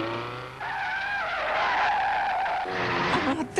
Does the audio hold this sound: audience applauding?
no